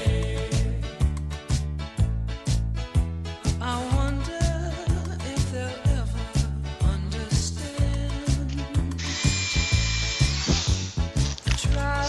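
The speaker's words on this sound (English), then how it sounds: "I'm gonna have to use a bigger drill." A bigger electric drill bores during the restoration of a 1958 Zenith Model B516G radio, running close with a steady whine broken by regular rhythmic pulses, with no talking.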